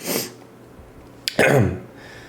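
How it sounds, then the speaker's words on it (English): A single close, loud human sneeze, with a sharp intake and an explosive burst, followed by a brief breathy tail in an otherwise quiet room. "Sorry guys, I cannot stop sneezing today."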